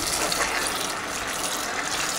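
Water gushes steadily from a tap while a cast iron pan is rinsed after scrubbing, a continuous close hiss with no pauses and no talking.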